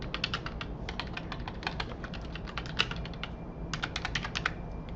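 Computer keyboard typing during data entry in an office, rapid irregular clusters of key clicks with short pauses, close and fairly quiet, with no talking.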